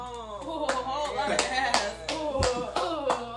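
Hands clap repeatedly in a loose, uneven rhythm of about a dozen sharp claps, with a voice and faint background sound beneath.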